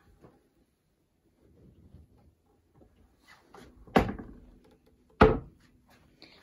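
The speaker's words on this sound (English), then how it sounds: "This is just a pull-out cabinet." A pull-out cabinet in a converted skoolie bus kitchen slides and shuts with two sharp knocks about a second apart, after some soft shuffling and rattles, heard close in a quiet room.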